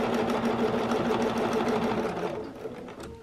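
A sewing machine runs steadily while stitching a quilt along a circle ruler. Its close, continuous whirring hum drops off slightly toward the end.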